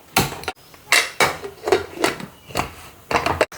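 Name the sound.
lid being closed on pressure cooker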